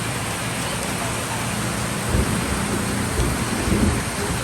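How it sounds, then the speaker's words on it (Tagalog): Steady heavy rain pours down in the Philippines, a dense continuous hiss with a few low rumbling swells midway and no voices. "Hanggang ilang oras itong ulan na ito, hindi po natin alam."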